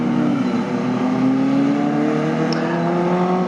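Classic 1970s road sports cars race at Cadwell Park, among them a Lancia and an Alfa Romeo, their engines droning loud and steady as a revving, rising and falling mix of cars at close range, with no talking.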